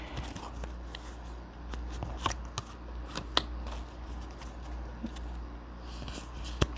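Tarot cards are shuffled steadily with soft riffling and crisp slapping clicks repeating across the clip, close by over a low background hum.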